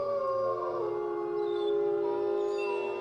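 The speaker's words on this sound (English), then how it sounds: "And this is why all wolves howl at the moon today." A wolf's howl, played as a sound effect, rises and holds as a long, wavering tone for about three seconds, clear and alone with no talk.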